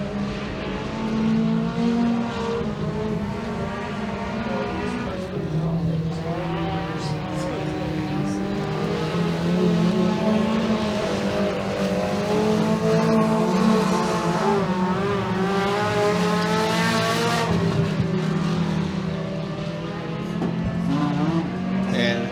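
Several race cars circle a 3/8 mile dirt track at Genesee Speedway, their engines a loud unbroken roar with wavering, climbing pitch as they power through the corners, and a commentator's voice runs over the din.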